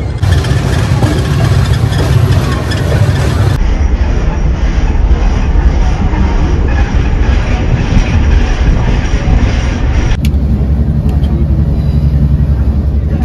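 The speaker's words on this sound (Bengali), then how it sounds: "এই নাসিক রোড জংশন ছাড়লো, স্টপেজ হচ্ছে ইগতপুর।" Gitanjali Express train running just after leaving Nashik Road junction, a loud continuous rumble and rattle of the moving carriages heard from inside the coach, with abrupt shifts in tone along the way.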